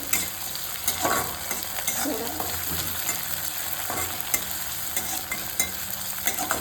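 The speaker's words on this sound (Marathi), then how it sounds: "टोमॅटो घालून थोडं फिरवायचं." Tomatoes are stirred into frying Vidarbha-style ghugri masala with browned onions, a constant close scraping and sizzling that runs throughout without pause.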